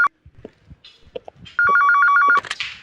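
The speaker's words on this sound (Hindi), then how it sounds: "एसीपी साहब का फोन" A telephone rings with a steady electronic warble for about a second, after scattered small thumps and household noises in a room where a family celebration with cake is underway.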